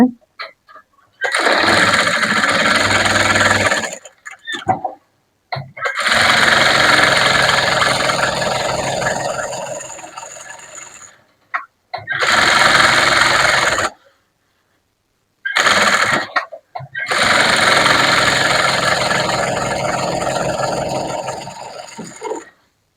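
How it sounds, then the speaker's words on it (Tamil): Sewing machine stitching around a blouse band, loud steady motor whirring in several long runs separated by short silent pauses, no talking. "அதை நம்ம சும்மா சுத்திலும் தையல் போட்டா போதும்"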